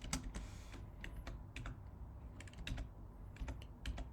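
Someone types on a computer keyboard with quick, irregular keystrokes, close but soft, and no voices are heard.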